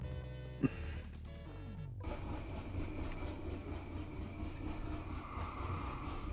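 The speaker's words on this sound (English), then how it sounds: "we've got a military train double heading the big DE6" Military train double-headed by a big DE6 diesel locomotive in the video game Derail Valley, a steady low rumble of engine and rolling wagons after a sharp knock, continuous and fairly close with faint clatter throughout.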